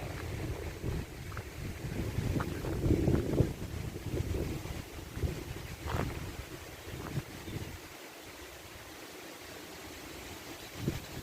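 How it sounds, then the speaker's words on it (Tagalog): Gusty wind in a park buffets the microphone in low rumbling surges, strongest early on, then easing to a steadier outdoor rush. "Mahangin na naman po."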